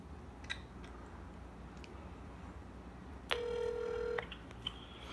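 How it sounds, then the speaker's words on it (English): A phone call back to a number used in a Canada Revenue Agency scam: a few faint dial-tone beeps, then a loud steady ringback tone for about a second, followed by quiet line noise and a couple of clicks. "I'm going to call them back on the phone while I'm recording and see what they have to say."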